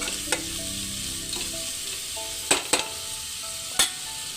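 Onions frying with salt in a pan for pulao, a steady close sizzle broken by a few sharp clinks and scrapes of a spoon while mixing.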